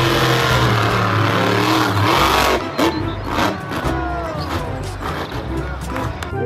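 Toy monster truck making a revving engine noise, a loud buzzing whine that rises and falls in bursts, with clattering handling sounds, close by.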